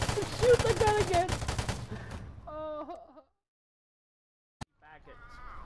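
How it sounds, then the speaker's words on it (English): Gunfire in the Vigor video game crackles loudly for a couple of seconds over a voice, then dies into near silence broken by a single sharp click and more talk. "Shoot the gun again."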